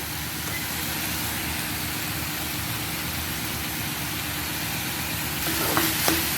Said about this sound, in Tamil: கேஸை ஸ்லோவில் வச்சு அப்படியே கொஞ்சமாக நம்ம கிண்டிட்டு ஒரு 5 நிமிஷம்.